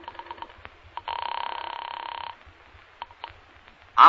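An old-time radio drama telephone bell rings in one sustained burst, preceded and followed by light clicks and handling sounds, then a sharp louder noise at the end.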